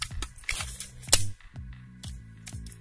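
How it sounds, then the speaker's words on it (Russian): The folding stock latch on a Cyma M4 airsoft carbine, giving a series of sharp close plastic clicks and snaps, with one louder snap in the middle. "Это был звук защелки."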